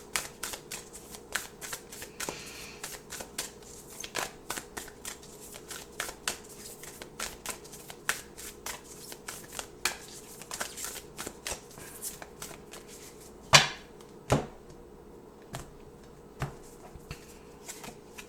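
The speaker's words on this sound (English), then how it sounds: "let's pull a few more oracle cards here before we close your messages" Oracle cards shuffled by hand during a tarot-style reading, producing soft, repeated riffling and flicking sounds close by, with a couple of sharper snaps near the end.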